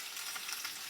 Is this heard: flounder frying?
yes